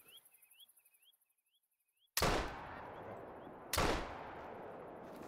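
Two loud rifle shots from a hunting rifle in the video game theHunter: Call of the Wild, each a sharp broadband blast with a long decaying tail, spaced about a second and a half apart after a few faint bird chirps.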